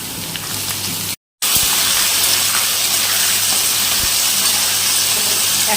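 Potatoes and onion fry in a hot pan with a loud, steady, steam-like sizzle that cuts out for a moment near the start and then carries on evenly.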